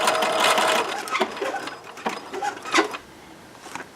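A sewing machine stitches a gusset seam on a Lulu-style garment, a loud steady run of rapid needle strokes that breaks into shorter stop-and-start bursts, close and with no talking.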